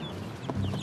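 Chickens cluck softly while being gathered from their rooftop run into a box in the late afternoon, one brief cluck standing out over a low, steady background.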